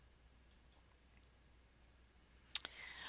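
Computer mouse clicks, a few faint, sharp taps early on and a brighter, closer double click near the end, over quiet room hiss.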